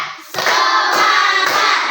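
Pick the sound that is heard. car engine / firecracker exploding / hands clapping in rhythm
hands clapping in rhythm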